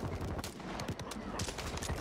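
Rapid bursts of BP50 automatic rifle fire in the video game Call of Duty on Rebirth Island, loud repeated shots in quick succession with a background din of game sounds.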